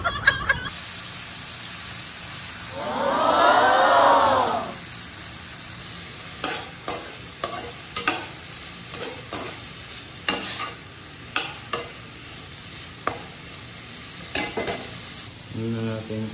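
Onion and ginger fry in oil with a soft steady sizzle, broken by a sequence of crisp scraping clicks as a utensil stirs the pan. Near the start comes a short burst of a louder warbling hum, and a voice speaks briefly.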